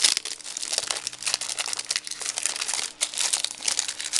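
A plastic-covered binder bought for 2.99 euros is handled and opened, giving continuous close crinkling and crackling of plastic with brief pauses, loud and alone.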